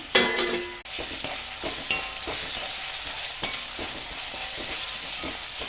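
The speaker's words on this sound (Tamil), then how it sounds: "நல்லா இப்போ வதக்கிக்கலாம் வெங்காயத்தை." Onions with curry leaves and coriander sizzle in a hot pan while a spoon stirs and scrapes, the frying hiss steady and close, broken by repeated soft knocks of the utensil.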